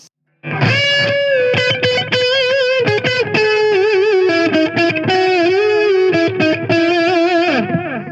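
Electric guitar played through a Gokko MX300 analog pedalboard with distortion and delay, a sustained driven melodic line with bright harmonics and echoing repeats, loud and continuous with no talking.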